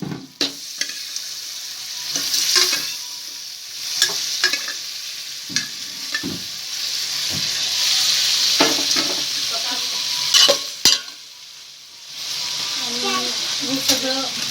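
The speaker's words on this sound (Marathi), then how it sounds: "सगळे मसाले एकजीव करून घ्यायचं." Boiled chicken pieces are stirred into frying masala in a pan, a steady sizzle broken by repeated scraping and clinking of a spoon against the pan, close and clear.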